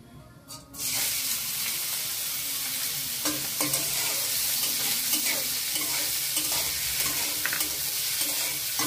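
Chopped onions fry in hot white oil in a kadai, a loud, steady sizzle that starts abruptly after a brief quiet moment and carries repeated scraping stirs throughout.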